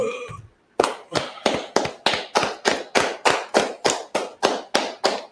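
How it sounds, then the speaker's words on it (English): Steady, evenly spaced group clapping in unison at a congregation's Sabbath service, about fourteen sharp claps in rhythm following a brief moment of talk at the start. "Let's go ahead and clap that up."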